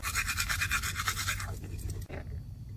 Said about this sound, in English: Now we're gonna brush my teeth.